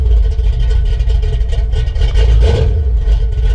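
A cammed carbureted Foxbody Mustang V8 runs cold at a steady, loud, lumpy idle, a continuous low rumble close by with no speech.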